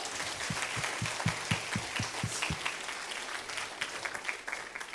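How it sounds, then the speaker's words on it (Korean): Congregation applause during an evening revival service at a church, steady dense clapping throughout with a few louder individual claps standing out near the start. "하나님께 박수 한번 드리실까요?"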